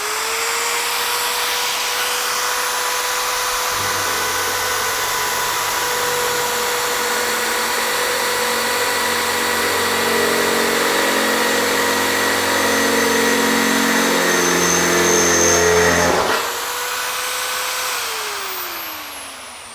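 A Bosch GSB 13 RE corded impact drill bores into a brick wall, whining up to full speed, then grinding loudly and steadily under load for about twelve seconds before winding down.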